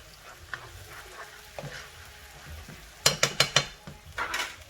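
Fresh thyme sautéing in a pot for African pinto beans, with a low sizzle under a handful of sharp metal clinks from a utensil against the pot, then a brief louder rush of frying.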